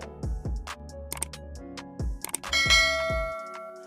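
A series of bright metallic bell dings, several quick strikes in succession ending in a longer ringing tone that slowly fades, clear and close.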